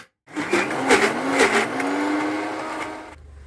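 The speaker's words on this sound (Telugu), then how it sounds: "ఇది కూడా వేసేసి గ్రైండ్ చేస్తే అప్పుడు స్మూత్గా గ్రైండ్ అవుతుంది" An electric mixer grinder whirs steadily as it grinds red chili paste, a loud continuous motor drone with a few surging pulses, running close by for about three seconds before cutting off abruptly.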